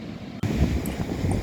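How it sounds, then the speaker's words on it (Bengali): Sea roaring at a beach at Cox's Bazar, where fishing boats sit lined up in rows: a steady, broad wash of surf and wind noise, loud and close, filling the whole stretch without any voices. "আপনারা কি সমুদ্রের গর্জনটা শুনতে পাচ্ছেন"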